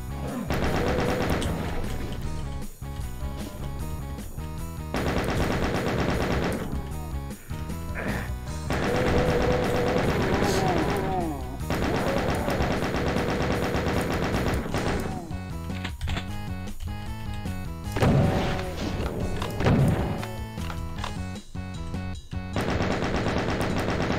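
A chaingun fires in the 1996 video game Final Doom, The Plutonia Experiment, in long, rapid, loud bursts broken by short pauses, mixed with other gunfire, impacts and game effects over about 24 seconds.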